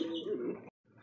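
Fancy pigeons in Indonesian colouring give a short, soft cooing call up close, cut off abruptly and followed by faint low rumbling.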